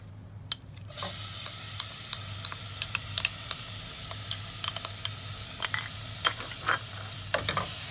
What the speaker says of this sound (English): now we add our olive oil and our onion